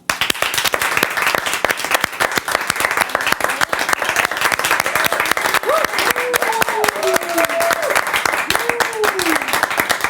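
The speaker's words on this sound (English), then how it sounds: "another round of applause." Dense, loud applause from an audience honoring Dr. Adelaide Sanford, continuous close clapping that stays steady throughout, with a few voices calling out over it.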